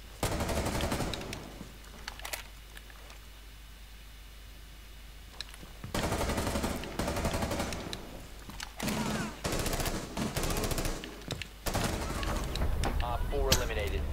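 Bursts of automatic gunfire in the Rainbow Six Siege video game come in loud clusters separated by quieter gaps, with sharp repeated shots and rattles, while voices talk over parts of it.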